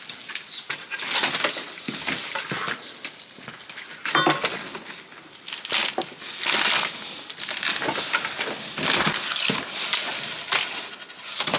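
A pitchfork breaks up solid, compacted straw packed at the top of a collapsed abandoned cottage wall, giving a close, continuous crunching and rustling with sharper scrapes and bursts throughout.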